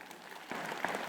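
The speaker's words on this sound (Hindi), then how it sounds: "जब आपने ताली मेरे लिए बजाई" Clapping from a live audience starts halfway through, a dense steady patter of many hands over low background noise.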